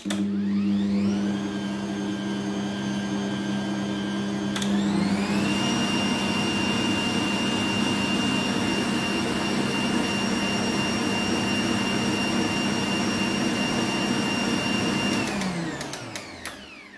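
Electric hand mixer whirring steadily through muffin batter with vanilla pudding and flour, a loud continuous motor hum that rises in pitch as it speeds up and winds down at the end.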